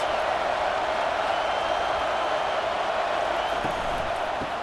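A college football stadium crowd at an Arizona Wildcats vs. Utah Utes game in 2024 roars steadily through a third-down play, a dense, continuous wall of cheering with no breaks.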